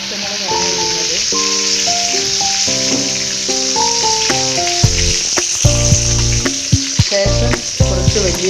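Curry leaves and green chillies hitting hot oil for a chicken curry: a loud, continuous crackling sizzle with rattling stirs, under steady tonal music, close and dense throughout.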